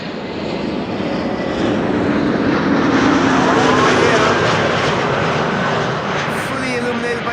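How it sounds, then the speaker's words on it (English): A JetBlue Airbus A321neo arriving at Amsterdam Schiphol roars loudly and continuously overhead, a broad engine rumble swelling and holding through the pass, with talk underneath. "JetBlue arriving from Boston, flight 631, A321neo."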